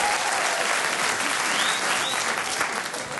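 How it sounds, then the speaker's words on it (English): Audience at a live comedy show in Boston applauding, a steady wash of many hands clapping at moderate level throughout, with no speech over it. "Give me a round of applause, please."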